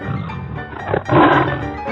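A tiger roars loudly and close by for about two seconds with no other sound. The roar rumbles low, dips briefly, then swells into a fuller, heavier bellow.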